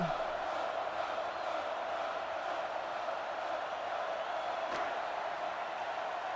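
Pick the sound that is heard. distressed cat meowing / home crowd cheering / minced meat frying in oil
home crowd cheering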